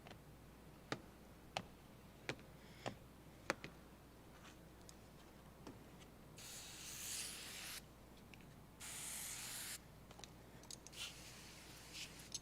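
Two sustained hissing spray bursts on an Audi Q5 windshield, a fairly steady one-second blast followed by a second after a short pause, preceded by a series of sharp, evenly spaced ticks, all quiet and with no talk.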